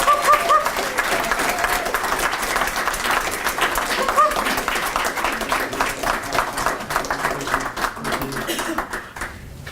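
An audience at a teaching award ceremony breaks into loud, sustained applause and clapping that fills the room, gradually thinning toward the end, with scattered voices and chuckles mixed in.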